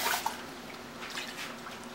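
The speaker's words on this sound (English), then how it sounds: "See that water shaking around in there?" Water sloshing and swirling inside an emptied can, a short close liquid rattle with a small splash near the start, then softer watery churning, no voices.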